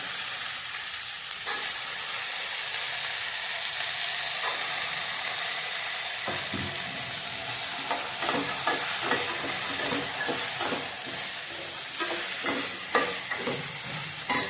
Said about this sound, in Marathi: शेंगदाणे भिजवलेले, आधी चांगलं तेलात भाजून घेऊया आपण 1 मिनिट।